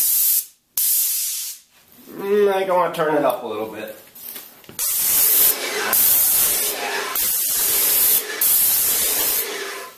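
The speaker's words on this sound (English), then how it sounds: "have a piece of cardboard handy, something that you can do a couple test sprays on" Paint sprayer test-spraying onto a piece of cardboard in several loud hissing bursts at close range, following someone speaking briefly over machine noise.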